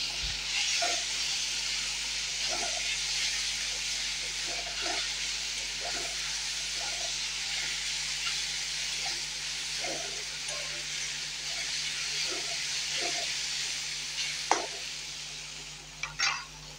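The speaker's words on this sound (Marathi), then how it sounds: "तेलावर छान परतून घ्यायचं।" Grated peeled cucumber and spices sautéing in hot oil for a Maharashtrian cucumber thecha, a steady close sizzle and hiss with soft periodic stirring scrapes and a few louder clinks near the end, no talking.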